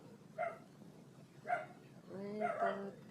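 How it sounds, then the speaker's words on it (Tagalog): Several dogs bark and whimper, with short yelps repeated at intervals and a longer whining bark at the end, fairly close with people talking around them. "Kaya ang ingay na naman ng aso dito."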